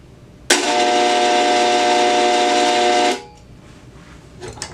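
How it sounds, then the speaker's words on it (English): A large electromagnet driving a steel plate into oscillation gives a loud, steady buzzing hum with a bright harmonic whine, switched on abruptly and held for about two and a half seconds before cutting off, followed by faint room noise. "this makes a magnetic field that oscillates this metal on the bottom and it makes a noise"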